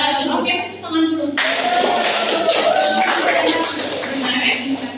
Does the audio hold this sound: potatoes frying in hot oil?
no